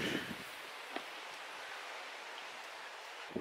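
Wind blows at a castle, a steady broadband rush with faint gusts and occasional soft bumps, fairly quiet and with no speech.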